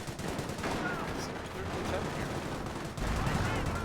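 Battle gunfire from the Company of Heroes video game plays as dense, continuous rattling shots and bursts, quiet in the mix, with a louder surge near the end.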